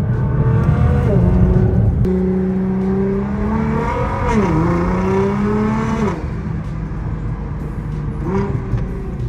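A loud Nissan GTR engine revving up and down repeatedly while warming up in cold weather, pitch rising and falling through several throttle blips, close by.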